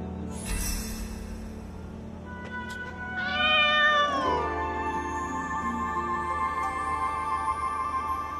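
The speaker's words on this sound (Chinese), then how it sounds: "这里竟然有只小猫，" A kitten in the Moonlight Blade mobile MMORPG lets out a clear, drawn-out meow, preceded by a shorter high mew, over a soft steady game ambience with no talking.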